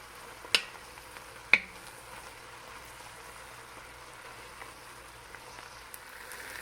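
Onions cooked in oil in a Dutch oven for French onion soup give off a soft, steady sizzle, fairly faint and continuous, broken by two sharp clinks of a utensil early on.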